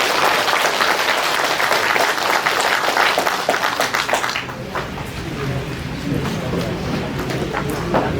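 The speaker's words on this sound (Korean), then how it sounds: "수고하신 강사님께 감사의 박수 한 번 더 보내주시죠." An audience at a lecture applauds the speaker, with dense, sustained clapping from a crowd in an indoor hall. The applause stays loud for several seconds and then eases slightly.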